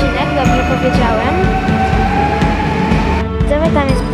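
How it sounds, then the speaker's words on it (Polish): A passenger train, likely bound for Chełm, pulls away from Lublin Główny station in the evening, a steady rumbling drone with rhythmic low clatter and a faint high tone, heard up close with some station noise around it. "Nie, tam odjechał pociąg do Chełma prawdopodobnie."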